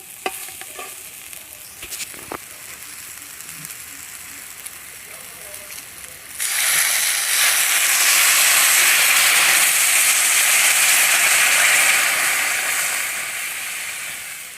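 Water poured into a pan of frying eggplant seasoned with turmeric, chili powder and salt, a quiet stirring scrape giving way to a sudden loud, sustained hiss of steam and sizzle that slowly fades.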